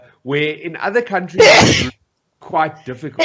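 A single loud sneeze straight into a microphone during a fireside chat at an annual general meeting, bursting out between stretches of speech; people talk before and after it.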